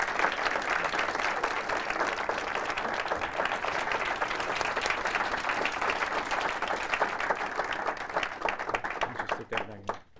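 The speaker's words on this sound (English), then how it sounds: "I want to give Ed an applause for his work in helping to touch our lives through the Academy's work" Sustained audience applause at a dental conference, a broad, even roar of many hands clapping for about ten seconds before thinning out and stopping, with a few isolated claps at the close.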